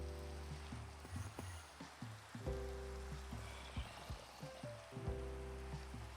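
Steady rain falls in a hardcore survival video game, a continuous hiss of drops on surfaces heard over a backdrop of layered tonal game music with repeated low plucked notes.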